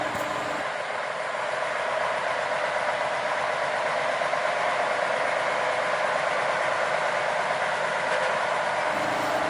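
A sugarcane railway locomotive on a cane line creeps slowly through tall grass, its engine giving a steady, continuous rumble and drone that stays level and close the whole time.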